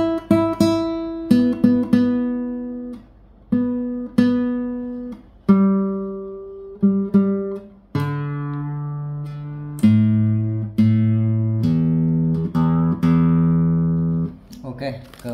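Yamaha C-150 classical guitar strings plucked one at a time while tuning, each note ringing and decaying before the next pluck, with a series of about a dozen clear single tones close up and no talking.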